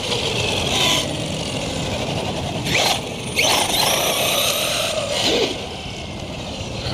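A Redcat Volcano EPX Pro electric RC truck fitted with new tires, differentials and motor drives nearby with a steady whining motor hum, rising in a few short surges as it accelerates, no speech.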